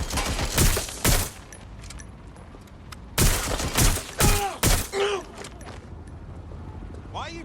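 Bursts of gunfire from Watch Dogs Legion, several loud sharp volleys separated by short pauses, with game voices speaking between the shots.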